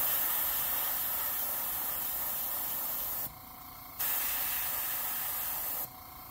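An airbrush sprays orange paint onto an MB S Crank fishing lure in a craw pattern, giving a close, steady hiss broken by two brief dips as the trigger eases.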